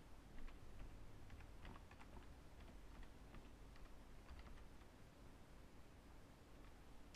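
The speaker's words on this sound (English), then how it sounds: "Go ahead and put your administrator password in." Quiet, rapid keystrokes on a computer keyboard while an administrator password is entered during Active Directory setup on Windows Server 2008 R2, a faint, steady run of soft clicks with no voices.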